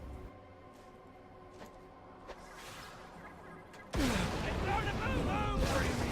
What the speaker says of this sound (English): let's throw some grenades at them